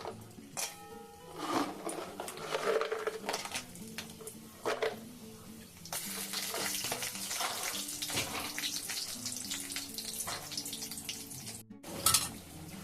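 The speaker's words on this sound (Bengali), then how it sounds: "আর দিয়ে দেবো কতগুলো বড়ি আগে ভেজে নেব" Lentil dumplings (bori) frying in white oil in a pan, a faint, continuous sizzle and crackle with irregular spattering pops, steady under background noise with no talk.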